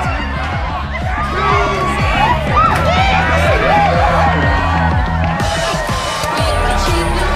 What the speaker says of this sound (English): a mosh pit opens in the smoky dark in front of the stage